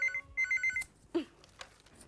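A telephone rings with rapid, bright electronic bell trills in two short bursts, fairly close and clear, followed by brief faint rustling.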